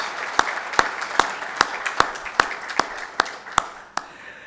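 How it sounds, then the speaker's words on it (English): An audience applauds at the inauguration of the Japan Culture Centre at AMA Ahmedabad: a soft bed of steady clapping with one sharp, regular clap ringing out about every half second. "Let us give a warm round of applause."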